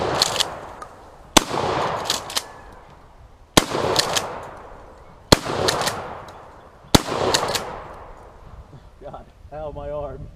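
Shotgun fire in a video game comes as five loud, booming blasts spaced roughly one to two seconds apart, each followed by a decaying rumble. A short electronic warble follows at the end.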